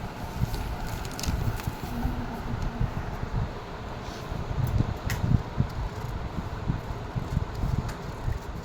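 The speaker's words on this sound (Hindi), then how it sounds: "पंखा चला है इसने।" An electric fan runs steadily in a room where a shirt collar is being drafted and cut, its airy whooshing hum continuous and fairly close, with no talk over it.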